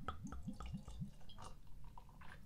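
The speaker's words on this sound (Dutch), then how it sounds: "Ik ga hem inschenken en kijken wat hij doet." Oedipus Mama American pale ale is poured into a glass, with a quick series of glugging gulps from the bottle followed by softer fizzing and small drips, close and quiet.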